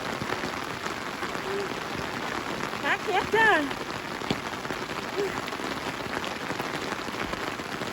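Steady rain pours outdoors while people pick sweet bee mushrooms, a dense, even hiss that runs the whole time, with a brief voice rising above it midway.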